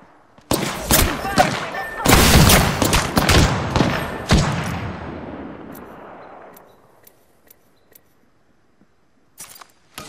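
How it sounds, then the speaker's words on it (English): Bursts of gunfire in the Apex Legends battle royale shooter, loud and dense for several seconds with rapid overlapping shots, then fading into a tail with a few scattered later shots; no talk over it. "Listen up, I'm getting shot at."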